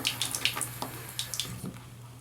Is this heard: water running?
yes